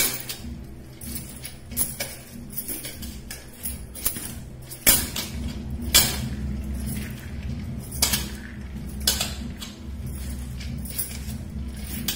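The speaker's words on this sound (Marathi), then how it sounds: "कोबी, शिमला मिरची आणि फरसबी सर्वप्रथम आपण मिक्स करून घेऊया" Vegetables being mixed by hand in a kitchen for veg manchurian, shredded cabbage, capsicum and green beans stirred together in a bowl, giving repeated soft rustles and clinks of utensils against cookware, steady and close, with no talk.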